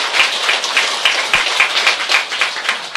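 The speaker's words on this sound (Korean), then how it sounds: "큰 박수 올려주시기 바랍니다." A live audience at a spiritual talk-show taping breaks into a big round of applause, dense steady clapping that fills the room for the whole stretch, with slight swells and no voices over it.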